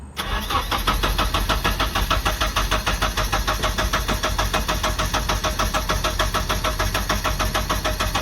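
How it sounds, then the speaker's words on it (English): A Nissan 240SX engine cranks over after the fuel pump is primed, the starter producing a loud, fast rhythmic churning that holds steady for about eight seconds without catching. "Fuel pump, prime. It's cranking."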